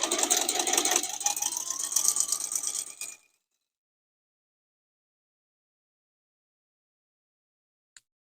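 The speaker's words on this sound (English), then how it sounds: "I'm going to sew through all the way to the other side" Sewing machine stitching a paper-pieced seam through fabric for a quilted heart trivet, running steadily with a close, continuous mechanical rattle for about three seconds before stopping abruptly, followed by silence and one faint tick.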